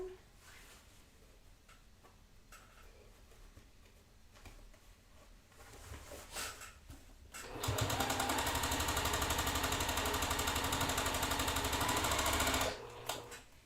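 A sewing machine stitches quilt top pieces together for a Summer Delight block-of-the-month quilt. Quiet handling noises come first, then the motor runs loud and steady in one continuous burst of about five seconds before it stops.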